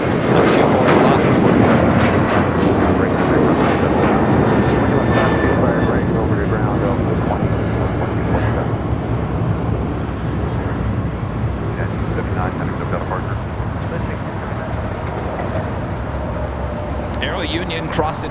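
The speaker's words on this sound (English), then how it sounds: "China Eastern Airlines to 777-300ER coming in from Shanghai" A China Eastern Airlines Boeing 777-300ER arriving from Shanghai lands at LAX, its engine roar steady and loud throughout while someone talks over it.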